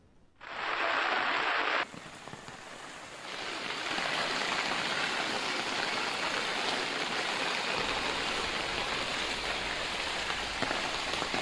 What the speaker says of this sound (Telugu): కామారెడ్డిలో కుండపోత వర్షం కురిసింది